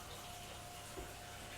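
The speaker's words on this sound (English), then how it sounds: "just cover them with water" Tap water running and splashing into a saucepan over potatoes, a steady close wash of pouring water with no talk over it.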